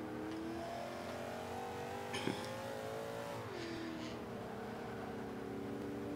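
High-horsepower car in Forza 5 revving hard off the line, engine pitch climbing and shifting steadily, with a brief burst of tire noise midway, sustained and close.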